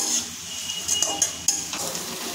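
Jackfruit seed poppy paste frying with onion and two green chillies in a pan, a steady close sizzle broken by a few sharp spatula scrapes and clinks against the metal.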